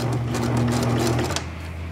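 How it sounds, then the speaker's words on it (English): A sewing machine runs a fast, steady stitch along the edge of a handwoven tote, whirring loud and close for over a second before stopping. "I'm gonna sew the edge, all right? And I'm pretty close to the edge, but I'm gonna go forward, very close, and then I'm gonna hit it backwards"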